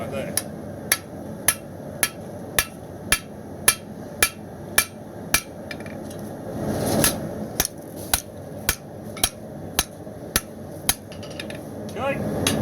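Steady hammer blows forging a knife blade from round bar steel, about twenty sharp metallic strikes in an even rhythm, close and loud, with a brief hiss or rumble midway.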